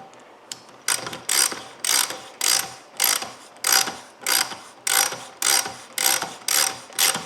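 A hand ratchet turning a spark plug thread chaser clicks in about a dozen regular bursts of pawl chatter, each stroke a short buzzing rasp, close and clear with no talk.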